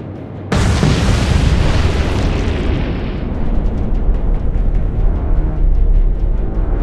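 Naval guns fire and shells explode in the Atlantic Fleet video game, opening with a sudden huge boom. A long, loud rumbling roar with crackling follows and carries on to the end.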